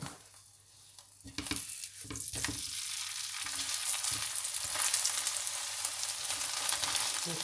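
Radish paratha, a flatbread stuffed with radish and green onion, fries in oil on a pan. A steady close sizzle and crackle runs throughout and grows slightly louder after a few soft handling knocks near the start, with no talk.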